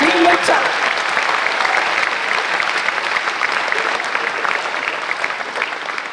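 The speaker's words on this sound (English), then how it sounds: "Now give yourself a round of applause." Large audience at a Stanford University new-student convocation applauding, a broad, even wash of clapping that starts strong and holds steady, slowly easing off toward the end.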